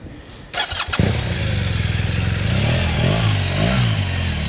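A BMW GS Adventure motorcycle engine starts at a motorcycle training centre during CBT training. A brief starter clatter gives way to a loud, steady idle that continues close by with a rhythmic throb and no speech.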